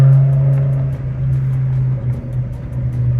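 A BMW E60 M5 with a V10 engine burbles on deceleration, a steady low exhaust drone with light irregular crackle throughout, close and fairly loud.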